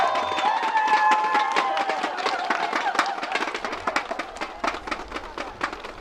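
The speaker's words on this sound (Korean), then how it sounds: "자 큰 박수 함성으로 입장하겠습니다" A crowd applauds and cheers steadily at an outdoor village festival in Haeundae as a children's karate team from Jwa 3-dong enters. Dense, rapid clapping runs throughout, with a voice or tone audible early on.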